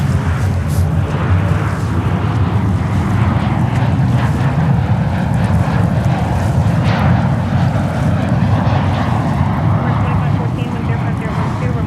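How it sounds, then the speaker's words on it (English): An American Airlines Airbus A319 jet with winglets roars at JFK airport in New York, a loud sustained engine rumble that holds steady throughout and dominates the scene. "American Airlines 319 with winglets."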